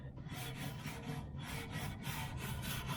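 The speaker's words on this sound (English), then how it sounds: "Gotta be careful with these bristled brushes too." A bristle brush scrubs the grill grate of a Big Green Egg, close and steady, with rhythmic back-and-forth rasping strokes about twice a second.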